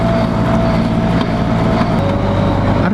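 Tractor and dirt bike engines racing side by side at low speed over bumpy ground, a loud, steady mechanical drone with a constant low hum running without a break.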